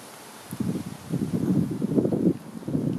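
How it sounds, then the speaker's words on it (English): Wind gusts through a garden with crocus plantings in autumn, a low rushing buffet that rises after a quiet start and stays steady and close. "Wind's blowing things about"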